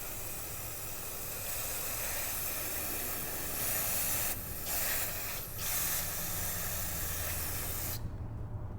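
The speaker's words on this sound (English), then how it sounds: "some brake cleaner." Brake cleaner sprays from an aerosol can in a long continuous hiss during an oil change on a HiSun Stryker UTV, close and loud, with brief pauses in the spray before it cuts off at the end.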